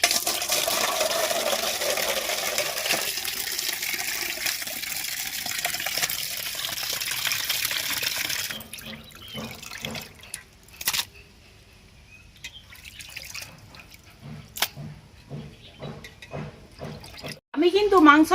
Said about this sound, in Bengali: এবার মাংসগুলোকে আমি ধুয়ে নেব।